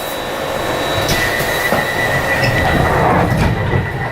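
A Glasgow Subway train pulls away from a station early in the morning, a loud steady rumble with high wheel squeal and faint clicks of the rails, heard from inside the car.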